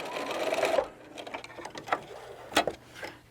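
A sewing machine back-stitches on a dress towel topper, with a short dense run of stitching followed by a few brief, quieter bursts and clicks, close and fairly soft.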